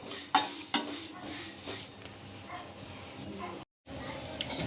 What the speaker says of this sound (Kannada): ಈ ರೀತಿ ಚಟಪಟ ಅಂತ ಎಲ್ಲ ಕಡೆ ಸೌಂಡ್ ಬರುತ್ತೆ